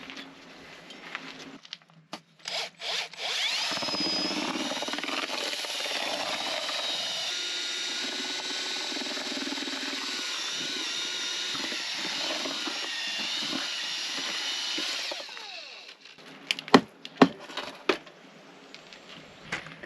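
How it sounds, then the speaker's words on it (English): A paddle drill with a badly worn blade churns mortar in a bucket at an off-grid homestead in Portugal, a loud, steady grinding whir running for about twelve seconds, with scraping and knocks before and after. "the blade for this paddle drill is completely snookered, but it does the trick sort of"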